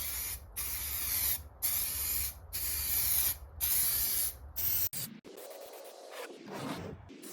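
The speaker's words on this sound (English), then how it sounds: "So give it a light mist." An aerosol can of 2K clear coat mists over plastic hubcaps in a series of about six loud, close hissing bursts with short pauses between, then a few rustling, scraping handling sounds.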